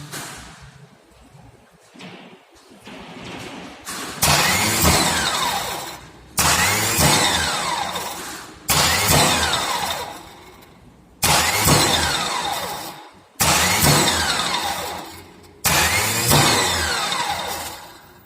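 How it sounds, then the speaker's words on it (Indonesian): A motorcycle starter motor being tested: six separate cranking bursts, each a loud whirring spin of a couple of seconds that cuts off sharply, spaced by short silences, with no talking. "Dinamo starter harus berputar ketika kunci kontak kita putar. Baik, akan kita coba putar kunci kontaknya."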